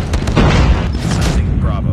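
Heavy booming blasts from an airstrike in the mobile shooter Call of Duty Mobile on a small shipment map, deep close rumbles layered with gunfire, while a game voice speaks over them.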